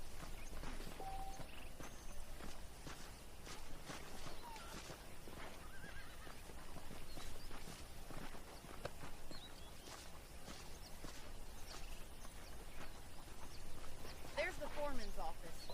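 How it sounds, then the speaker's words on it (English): Horses whinny and neigh over steady hoofbeats and background ambience in Red Dead Redemption, with a voice talking now and then. "The horses are saddled up over here."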